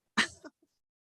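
A single short, explosive sneeze up close, followed by a faint trailing breath, in otherwise silent surroundings.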